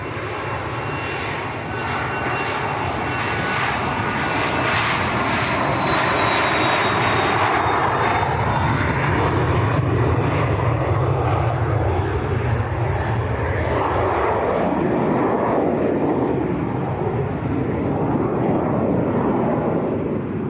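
Airliner taking off at Manchester Airport, a loud sustained jet engine roar that builds and shifts in pitch as the aircraft accelerates down the runway and climbs away, with no talk over it.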